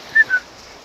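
On a beach in the early morning, a dog gives two short, high-pitched whimpers in quick succession, close by and fairly loud against a quiet background.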